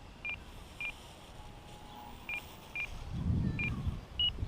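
An E-flite Slow Ultra Stick RC plane's flight timer beeps six times as its five-minute limit runs out: short, high, faint chirps at uneven intervals over outdoor background, with a brief low rumble near the end.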